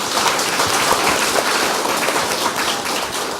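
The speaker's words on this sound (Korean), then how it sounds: "다시 한번 많은 박수 부탁드리겠습니다" A forum audience applauds steadily, a dense wash of many hands clapping at a constant level for the whole stretch, with no speech over it.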